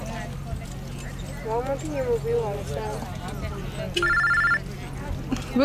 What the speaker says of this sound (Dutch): Wil iemand mijn telefoon opnemen?